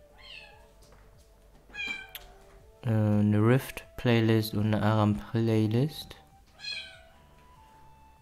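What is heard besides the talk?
cat meowing to be let into the room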